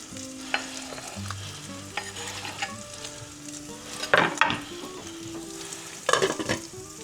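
Steady sizzling of sausage browning in a pan over a gas flame, with occasional scraping and stirring clatters breaking through the hiss.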